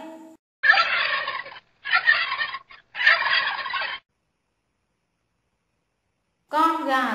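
Turkey gobbling in three loud bursts of rapid, rattling calls separated by short gaps, followed by silence and then a brief voice at the end.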